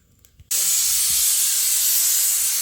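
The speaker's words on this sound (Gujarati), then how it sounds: "આપણે એક સીટી વાગી ગઈ છે" A loud, steady pressure cooker whistle of venting steam bursts in suddenly after a brief quiet moment and keeps hissing strongly without letup.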